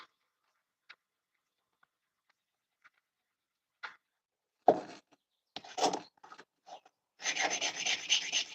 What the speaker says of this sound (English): I'm over here grinding because yeah, grind it.